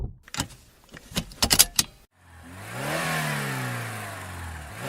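Sharp clicks and rattles come first, then after a short silence a car engine fires up and revs climb steadily as it pulls away, close and fairly loud, with no talk.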